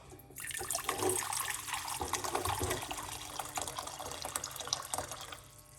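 Hot water pours in a steady splashing stream into a container, about two cups, running continuously for several seconds before stopping.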